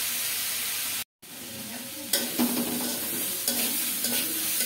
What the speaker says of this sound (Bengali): এমনি নেড়ে নেড়ে ভাজি করে নেবো